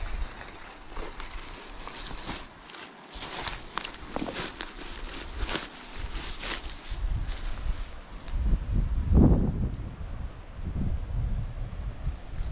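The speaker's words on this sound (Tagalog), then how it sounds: "Sobrang tayog, ang lakas ng hangin." Strong wind gusting across an open coconut grove, a broad steady roar with rising surges, heard alone without talk.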